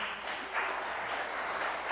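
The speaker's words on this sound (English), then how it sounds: "can I get a round of applause for the Awkwardly Zen people?" Audience applause for a group at a metaphysical weekend gathering in a spiritual center, a steady, even wash of clapping holding at moderate level throughout.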